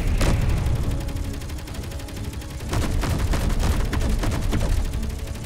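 Automated ship turrets in Space Engineers pour rapid gunfire at an enemy ship, a dense, loud rattle of shots with a brief lull before the barrage picks up again.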